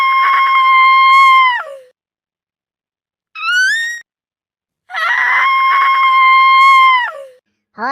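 A woman at home in the morning screams in fright at a rat: two long, shrill screams with a short rising yelp between them and another yelp at the end.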